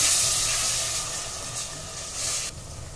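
Tomato puree and green chilli are added to a hot pan for matar paneer made in a pressure cooker, giving a loud, steamy sizzle that is close by, fades slightly, then cuts down sharply near the end.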